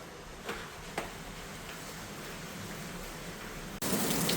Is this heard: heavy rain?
yes